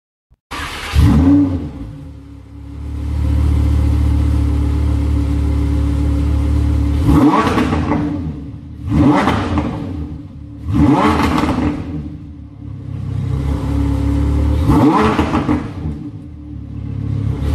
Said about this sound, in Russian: Но я думаю, что сейчас мы ее заведем